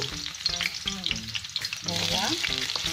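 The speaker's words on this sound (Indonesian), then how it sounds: "kita buatkan bahan-bahan untuk tumis terai bawang putih" Garlic and onion sizzling as they are sautéed in a pan for a rambutan curry, a steady close crackle with stirring scrapes and no talk.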